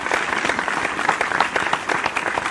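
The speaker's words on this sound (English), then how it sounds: "Let's give it a round of applause, bro." A small group claps steadily for a couple of seconds, dense and fairly close, with no talk over it.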